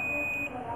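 A steady, high electronic tone from a multimeter's continuity buzzer plays briefly while testing coils on a phone board with an MSM8940 CPU buck line short, then cuts off, leaving bench noise.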